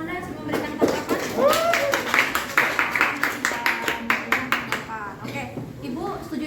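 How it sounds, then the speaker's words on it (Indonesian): A classroom of students claps for a classmate during a chemistry teaching-practice lesson, a dense round of hand claps with a steady rhythm. It carries on under ongoing talk and thins toward the end. "Tepuk tangan dulu untuk Anda yang memberikan tanggapan."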